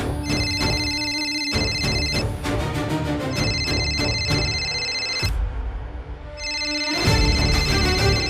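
A phone ringtone chimes in repeated bursts with brief gaps, loud and close, playing alone indoors at night without talk.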